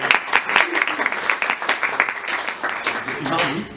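An audience at a professional accountants' event applauds a newly named regional president, with irregular bursts of clapping mixed with a voice talking over it.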